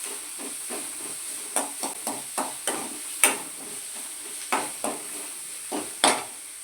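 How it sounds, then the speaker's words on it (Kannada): Garlic paste sizzles and hisses in a hot pan while a spoon stirs and scrapes against the metal in sharp, irregular knocks, close up, with no one talking; a cooking step in a Kannada boti gojju recipe. "ಬೆಳ್ಳುಳ್ಳಿ ಪೇಸ್ಟ್ ಹಾಕ್ಕೊಂಡು ಹಸಿ ವಾಸನೆ ಹೋಗೋವರೆಗೂ ಹುರ್ಕೋಬೇಕು."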